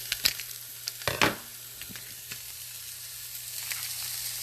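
Meat browning for birria sizzles steadily in a hot pan, with a few sharp crackles and pops near the start over a constant frying hiss.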